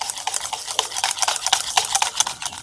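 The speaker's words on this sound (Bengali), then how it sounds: "এটাও খুব ভালোভাবে মিশিয়ে নেব।" A whisk or spoon stirring a batter of beaten egg, sugar and sunflower oil for homemade bauli, a quick, close, rhythmic series of wet ticking strokes against the bowl.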